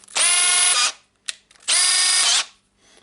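Makita DHP484 18V brushless drill running in hammer mode, two loud close bursts of rapid rattling hammer action of about half a second each, separated by a short mechanical click, with no talk.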